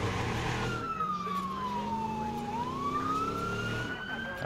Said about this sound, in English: A unicorn police car!